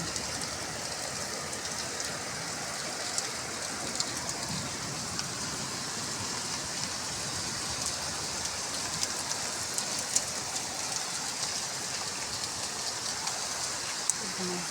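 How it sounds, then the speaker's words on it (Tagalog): Heavy rain pouring down in Dubai during a record downpour, a dense steady hiss of drops hitting surfaces, even and unbroken throughout, with occasional faint voices in the background. "Ang lakas ng ulan."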